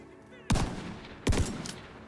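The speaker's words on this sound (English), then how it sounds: "Oh, that sawed-off shotgun." A sawed-off shotgun fires twice in The Division 2 video game, two loud, heavy booms about three-quarters of a second apart, each with a short ringing tail over low background ambience.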